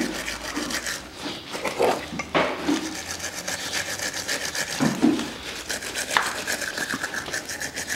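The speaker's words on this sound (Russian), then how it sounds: "Щетка по металлу помогает, но когда чистите, аккуратненько" Wire brush scrubbing a front brake caliper bracket on a 2011 Chevrolet Epica during a disc and pad replacement, steady raspy back-and-forth strokes up close, fairly loud and continuous with no talk.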